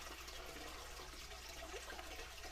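Water gushes steadily down the chute of a bell siphon in an aquaponics setup, a faint, continuous rushing and gurgling flow.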